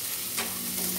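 Onion and green chili frying in a pan in a home kitchen, a steady soft sizzle with faint stirring, close and continuous with no talking.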